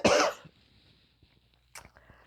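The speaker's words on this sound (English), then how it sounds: "See, I told you the cough was back." A single loud, harsh cough bursts out at the start, followed by quiet and a fainter rustle or second small cough near the end.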